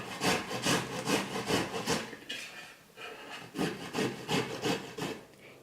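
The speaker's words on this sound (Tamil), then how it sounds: "இந்த மாதிரி ஒரு காய் துருவுறதை எடுத்துக்கிட்டு நல்லா இப்படி காலிஃப்ளவரை துருவி எடுத்துக்கலாம்." Cauliflower is grated on a handheld vegetable grater in rhythmic bursts of rasping strokes, a brief pause mid-way, close and fairly loud.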